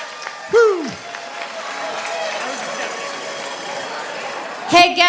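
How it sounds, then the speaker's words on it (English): Audience applause at a live dance show as a couple leaves the floor, a steady mid-level wash of clapping running under a host's amplified voice, with brief whoops near the start and end. "the beautiful Ms. Patty Paiva and Forrest another round of applause as they head off the floor."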